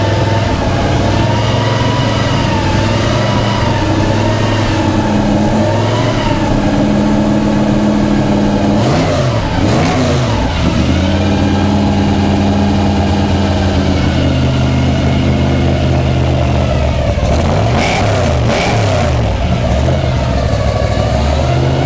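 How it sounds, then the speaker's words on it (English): A 1956 Chevy gasser fires up and idles loudly through an exhaust dumping just ahead of the rear wheel, a deep lumpy rumble that swells with two brief revs before settling back to idle. "So we're gonna go ahead and fire it up and let you hear what it sounds like through the exhaust."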